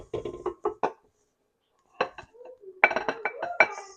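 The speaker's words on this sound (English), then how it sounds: "I'm going to add that to my bowl and I mix until smooth" Quick clinks and scrapes of a utensil against a bowl while biscuit batter is stirred, in short rhythmic bursts separated by a pause, close and fairly loud.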